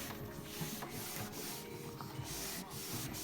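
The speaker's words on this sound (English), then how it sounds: "I'm just gonna grab my cloth and I'm gonna start wiping it" Soft, steady rubbing of a cloth wiping finish across a wooden coffee table during refinishing, faint and close with a continuous swishing texture.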